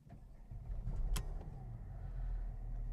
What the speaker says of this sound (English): As we turn the ignition on,